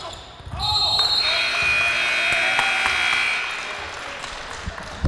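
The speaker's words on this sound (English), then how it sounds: "That is a buzzer ending the first half of play" A loud, sustained electronic buzzer ends the first half of a high school boys' basketball game over the noise of an indoor crowd, with a ball bouncing and a voice calling out around it.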